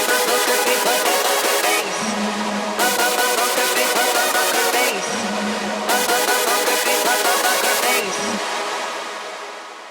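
Bright, dense hardstyle lead synth plays the main-melody chords of a remix, sustained full-band stabs with short gaps that reveal a low tone every few seconds, loud and continuous for ten seconds.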